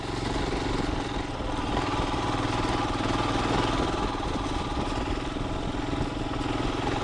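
A 2021 Royal Enfield Himalayan's single-cylinder engine chugs steadily in second gear at around 2,500 RPM while climbing, giving a continuous throbbing putter mixed with wind rush, with no talk.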